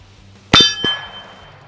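A .22 pistol round strikes an AR500 steel target with a single sharp metallic plink that rings out briefly, followed by a fainter second ping, over a quiet low background.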